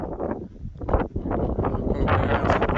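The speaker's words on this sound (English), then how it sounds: "I've got no idea how this sound's going to pick up because it is very windy up here." Strong gusty wind buffets the microphone on a mountain summit in the English Lake District, a loud, rough rumbling roar that swells and dips unevenly over a few seconds.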